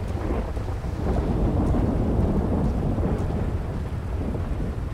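Steady rain pours with low rumbling thunder in a GTA 5 night street scene, a dense continuous wash of sound with no talking.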